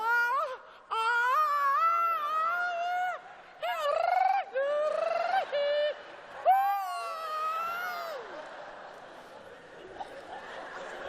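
On a comedy stage, a voice mimics the call of a golden parrot with a series of wavering, sliding high-pitched wails and warbles that break and repeat over several seconds, with faint audience reaction behind.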